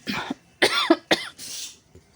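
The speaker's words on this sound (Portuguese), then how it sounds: "deu uma tosse agora bem no meio da gravação" Several sharp coughs close up, in quick bursts with short pauses, followed by a breathy exhale.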